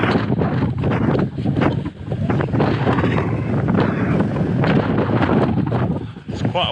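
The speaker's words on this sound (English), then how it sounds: "It's quite a wind blowing across here" Strong wind blowing across an open hill roars steadily against the microphone, loud and continuous, with a voice faintly underneath.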